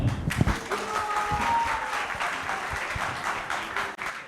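An audience applauds a school group's performance at a children's holiday competition, a dense, sustained patter of many hands clapping throughout, with faint voices mixed in.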